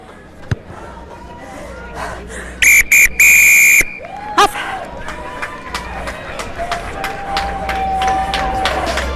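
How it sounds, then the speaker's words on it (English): Referee's whistle blasts, a short pip then a long sustained blow, ending the first half of a rugby sevens match at a club championship, over a field-level crowd murmur, distant shouts and a commentator talking. "May take us to the first half whistle."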